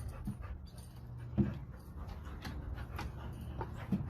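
A dog panting during a game of tetherball, quick soft breaths with a couple of brief whimpers, fairly quiet and close with no voices.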